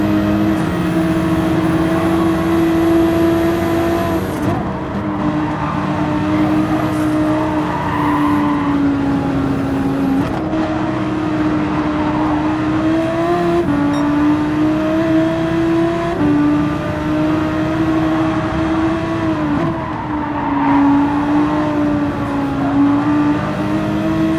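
Ferrari race car in Gran Turismo 7 sliding at the Nürburgring, its engine roaring steadily with shifting pitch and tire squeal as it runs wide and sideways through corners, loud and continuous with no talk.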